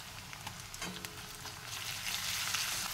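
Ginger paste, chopped onion and garlic paste frying in a pan, a steady soft sizzle with faint crackle and occasional stirring scrapes throughout, no voices.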